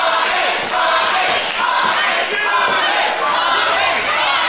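A wrestling crowd at an APW Under The Big Top show cheers and chants in support of Bobby Bishop, a loud, sustained roar of many voices with rhythmic swells throughout.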